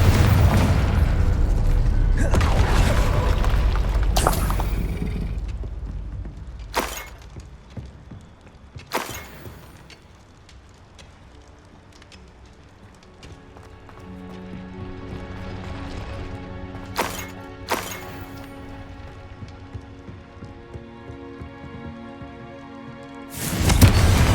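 Spell-cast blasts from Confringo and Bombarda in Hogwarts Legacy: several sharp, loud booms and bursts stand out over a rumbling game soundscape of combat noise, with a heavy burst at the start and another at the end.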